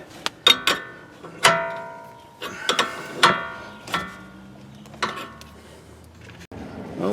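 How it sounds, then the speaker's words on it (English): Ratcheting wrench clicks while a jam nut is tightened on the outer tie rod end of a Chrysler 200, with short bursts of metallic ticks separated by pauses in a quiet garage. "last thing we'll do is tighten up our little jam nut here"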